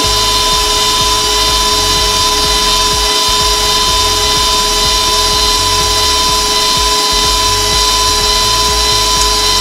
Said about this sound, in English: I'm going to mix it for about a minute and then I'm going to scrape down the sides and then continue mixing for about another minute.